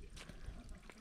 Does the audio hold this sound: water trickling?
yes